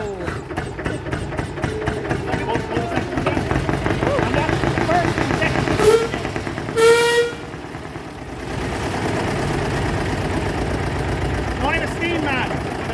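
Hand-started vintage locomotive engine on a woodland railway: a rhythmic mechanical chugging that builds, then settles into a steady idling beat, with voices talking briefly over it and a short sharp tone partway through.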